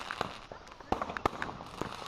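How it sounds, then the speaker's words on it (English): Fireworks pop and crack in a quick irregular string of sharp bursts, moderately distant and fairly faint, with a few stronger bangs standing out. "You don't want to get blown up by a firework."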